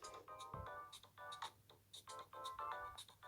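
Samsung Galaxy A8 (2018) Aqua ringtone playing alone, a bright, repeating electronic melody of short chiming notes in quick phrases with brief gaps.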